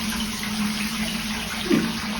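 Water runs steadily into a bathtub in a Japanese apartment in Osaka, a continuous close hiss of filling with one brief splashy burst near the end.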